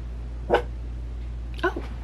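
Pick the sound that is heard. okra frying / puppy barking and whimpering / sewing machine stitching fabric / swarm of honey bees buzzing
puppy barking and whimpering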